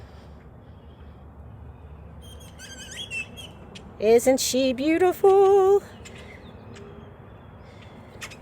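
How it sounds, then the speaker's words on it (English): Birds chirping outdoors around a parked camper van, a few bright whistled calls and tweets in a quick burst midway, fairly close over quiet ambience, with a person speaking briefly. "The birds are active."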